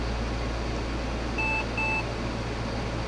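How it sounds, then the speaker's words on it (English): Pentium DOS PC gives two short, clear electronic beeps at boot over a steady fan and electrical hum, sounding close and alone with no voices. "it should beep here."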